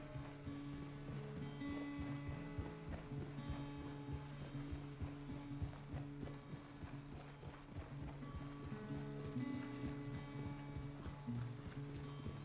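Horse hooves clip-clop at a steady riding pace throughout, with tack rustling, in the Red Dead Redemption 2 video game on Xbox One. Ambient music plays along under the hoofbeats.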